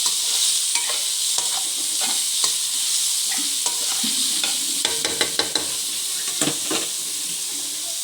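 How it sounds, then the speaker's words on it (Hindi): Boneless chicken stirred into leftover rice in a hot pan, with a continuous bright sizzle and repeated scraping clicks of a spatula against the pan, louder clatter toward the end, no voices. "ये देख सकते हैं मैंने इसमें अब चिकन ऐड कर दिया, इसको अब मिक्सअप करूँगी।"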